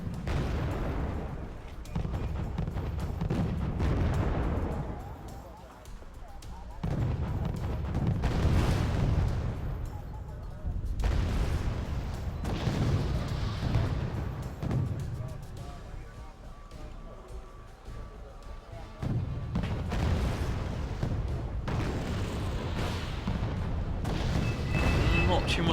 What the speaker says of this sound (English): Just a lot of mortar fire back and forth.